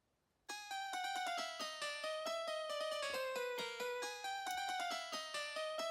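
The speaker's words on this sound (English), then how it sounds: "There's also some cembalo going on." Harpsichord in a studio-produced arrangement plays a brisk run of bright plucked notes with a steady repeating rhythm. It is loud and close, with no voices.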